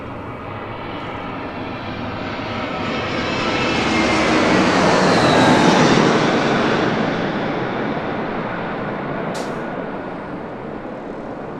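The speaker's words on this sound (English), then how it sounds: "JetBlue flight coming in from Fort Lauderdale" A JetBlue jet arriving at LAX from Fort Lauderdale roars past, building gradually to a loud peak and then fading into a lingering rumble, with no talk over it.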